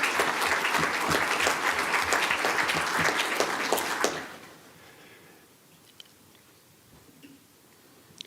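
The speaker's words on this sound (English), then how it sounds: "if we could give these students one more big round of applause" An audience at a school board meeting claps for students in steady, dense applause for about four seconds, then it fades into a quiet room.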